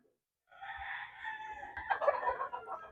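A Red Kelso gamefowl rooster at a game farm crows loudly and close, a single long call with hoarse clucking toward the end.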